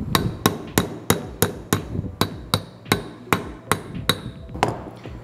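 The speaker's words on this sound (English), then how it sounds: "For some reason, I have to hammer on the 10." Metal-on-metal hammer blows driving a 10 mm socket onto a pulley bolt on a 1JZ-engined Mk3 Toyota Supra, about a dozen sharp, close, evenly spaced strikes ringing out alone.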